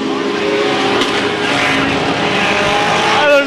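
Mini stock race cars run an enduro on a track, their engines a loud, continuous roar with a faint tire squeal near the end.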